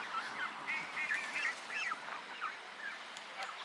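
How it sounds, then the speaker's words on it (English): Canada geese honk repeatedly at moderate distance in a park, a busy overlapping chorus of short calls against a soft outdoor hush. "All the Canada geese having the party"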